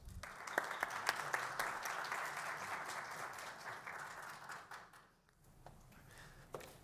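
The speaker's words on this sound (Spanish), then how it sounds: "un aplauso, por favor" An audience at a financial sustainability conference session applauds steadily, a dense run of clapping that swells then fades out near the end, with scattered claps trailing after.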